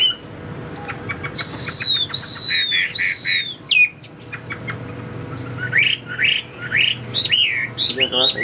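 Close, bright song from a caged Chinese hwamei: looping whistled phrases, quick chirp series and sharp rising notes come in bursts with brief gaps, with faint background hum.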